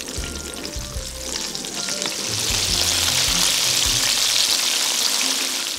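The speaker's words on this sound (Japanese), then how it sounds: "揚げていきます。" Chicken pieces deep frying in hot oil, a loud dense crackling sizzle that swells as more pieces go in and then holds steady, close by with no talk.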